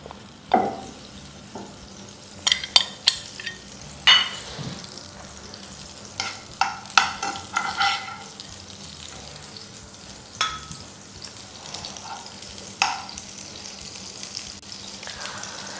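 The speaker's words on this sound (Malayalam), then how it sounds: "ഇത് വെളുത്തുള്ളിയാണ്, ഒന്ന് ചൂടാവട്ടെ" Chopped garlic, about ten to twelve cloves, frying in butter in a pan for a butter garlic egg dish, giving a soft steady sizzle with intermittent clinks and stirring scrapes close by, no talk.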